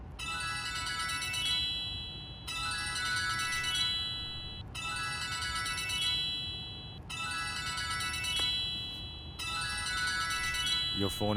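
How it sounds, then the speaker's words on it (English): A mobile phone ringtone plays a bright repeating melodic phrase in five regular bursts with short gaps between, loud and clear, ending as a voice begins. "Your phone is ringing."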